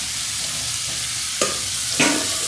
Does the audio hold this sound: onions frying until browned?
yes